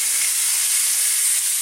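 Unsmoked bacon, cut into irregular pieces, sizzling in a hot dry pan without oil: a steady, bright hiss with a fine crackle that holds evenly throughout, close and fairly loud, with no voices.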